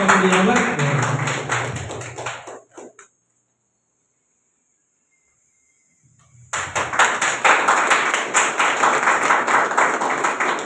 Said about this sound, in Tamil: அவருக்கு எல்லாம் ஒரு பலத்தை பாராட்டு கொடுங்க